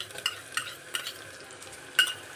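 Onion and tomato sautéing in a pan for veg pulao, a quiet close sizzle with four crisp spatula scrapes coming at a steady rhythm, no speech.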